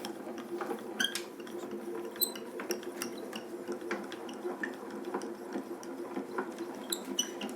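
Die cutting machine being hand-cranked as a plate sandwich with a craft die feeds through, a steady faint mechanical drone with repeated clicks and ratcheting ticks throughout.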